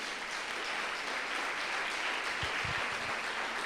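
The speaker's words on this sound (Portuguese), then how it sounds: "Vocês podem aplaudir o Senhor por isso" A church congregation at a family service applauding, a dense, even roar of many hands clapping that fills the whole stretch, close and loud, with no voices above it.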